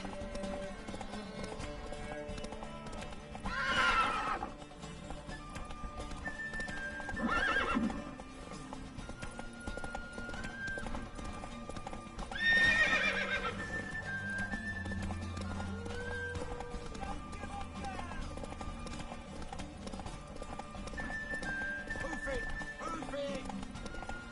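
Hooves clip-clop rhythmically with a few loud whinnies breaking through, over game music and voices talking in The Witcher 3: Wild Hunt.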